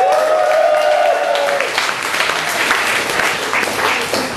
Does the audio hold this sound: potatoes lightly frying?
no